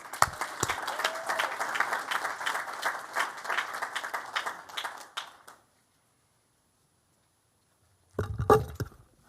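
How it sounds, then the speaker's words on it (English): An audience at a community conversation on digital equity gives a warm round of applause to welcome a mayor; moderate clapping runs for about five seconds, fades to silence, then a brief burst of handling noise and a voice follow. "Let's give a warm round of applause."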